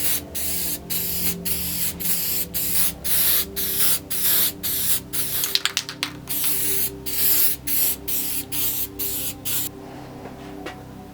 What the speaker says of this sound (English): And it's attached to the MDF with spray adhesive.